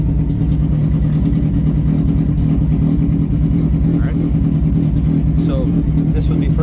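A 1967 Toyota Publica fitted with a Hayabusa motorcycle engine runs loud and close with a steady, throbbing idle throughout, and a person talks over the engine noise.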